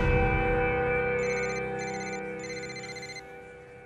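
A telephone rings in three short electronic bursts over a steady background of music or room tone, with no talking during the rings.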